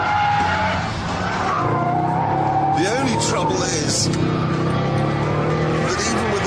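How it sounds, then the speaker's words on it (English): Tires of a Mercedes CLS 55 AMG squeal and slide with traction control off, a loud engine droning underneath and sliding screeches rising midway, while someone talks over it throughout. "traction control turned off, the brakes are still being used to try and stop these slides"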